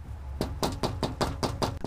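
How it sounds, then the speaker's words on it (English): Knocking on a house door in Southeast Memphis, seven firm evenly spaced raps in a steady rhythm, close and clear with no voices. "I knocked, but no one answered the door."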